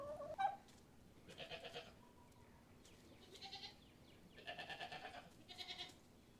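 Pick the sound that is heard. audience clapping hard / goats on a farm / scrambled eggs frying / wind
goats on a farm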